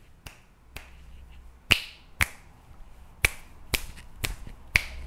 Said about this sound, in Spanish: esto es un chasquido. El ruido que emiten nuestros dedos.